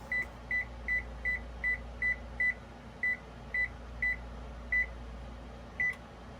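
An oven beeping while being preheated to 425 degrees at night, a string of about a dozen short high electronic beeps at slightly uneven intervals over a low steady hum.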